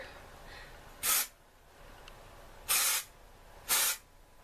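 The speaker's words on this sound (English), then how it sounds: "this is a dry shampoo. I'm just going to shake it up and apply it to my hair." Three short bursts of dry shampoo aerosol spray hiss, close by, one then two more after a pause, over a quiet background.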